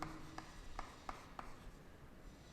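Marker or chalk writing on a board in a chemistry lesson: a handful of short, quiet squeaky strokes at irregular intervals in a quiet room.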